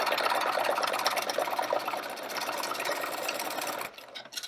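A sewing machine runs steadily at speed while free-motion stitching a fluffy 3D flower, a dense continuous mechanical whir that stops abruptly near the end.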